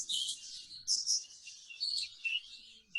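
Budgerigars, including double factor spangles, chirping and warbling in a breeder's aviary, a continuous bright chatter of overlapping tweets from several birds, fairly close and moderately loud, no talking.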